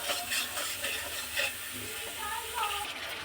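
Ground spices fry in ghee and oil in a pan with a soft, steady sizzling hiss, quiet and close, with faint clinks of stirring.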